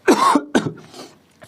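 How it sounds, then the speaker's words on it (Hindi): Two sharp coughs in quick succession, close and loud, followed by a short throaty trailing sound. "खांसी हो गई है"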